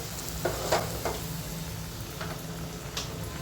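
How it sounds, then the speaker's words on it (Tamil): Kashmiri chili powder sizzles softly in a pan with fried garlic, a steady low crackle with a few light clinks and stirring taps, no voices. "இப்போ காஷ்மீரி மிளகாய் தூள் வறுத்துடலாம்."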